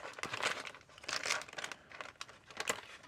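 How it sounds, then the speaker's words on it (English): Crinkly grease-proof paper is handled up close in a few quick crunching, rustling bursts with brief pauses between them, and no one speaks. "And again, just use the same grease-proof paper."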